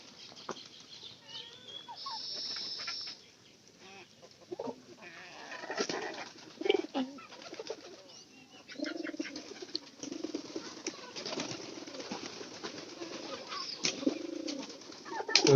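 Pigeons cooing in soft, intermittent bursts close by, with occasional wing flutters and quiet rustling between calls, no talking.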